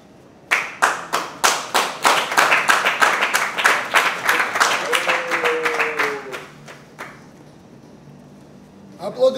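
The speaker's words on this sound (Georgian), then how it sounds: "აპლოდისმენტები." A small group claps in brisk, slightly uneven bursts at a GAMA BK "WILD" fighters' weigh-in ceremony. The applause is close and fairly loud, then thins out and stops, with a brief knock at the very end.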